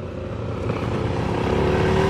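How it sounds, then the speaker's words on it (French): A Honda PCX scooter engine hums and drones steadily at close range, the tone rising slightly as it pulls, with no talk over it. "Ça c'est un PCX, plus puissant."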